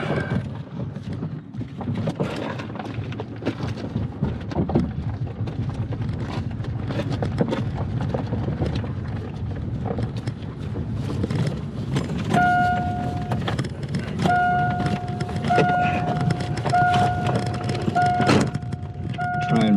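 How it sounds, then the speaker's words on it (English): A 1988 Ford Mustang Foxbody being bump started in second gear, with a steady rumble of rolling and engine noise throughout and intermittent beeping tones in the latter half, recorded close up from inside the car. "Try and bump start in second gear here."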